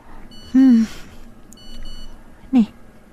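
Short electronic tone from a cellphone text message alert, heard twice with a pause between, close and clear, with quiet background voices in an Ilocano drama scene.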